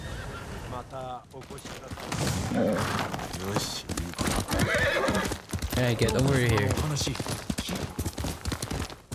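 A horse in Ghost of Tsushima, played on PC, whinnies and clip-clops its hooves. Someone talks over it, and the hoofbeats and neighs come through clearly, fairly close, under his voice.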